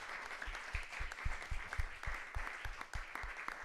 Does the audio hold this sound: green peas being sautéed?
no